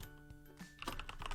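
Keystrokes on a computer keyboard clatter in a short, uneven burst of close taps, growing busier toward the end over a faint background hum.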